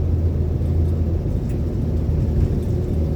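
A Chevrolet Corvair engine at full throttle, a loud, steady low rumble and drone heard from inside the car, with no voices.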